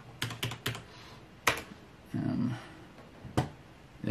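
Typing on a computer keyboard, a few quiet separate key clicks in short groups, close by, with a soft voice briefly in between.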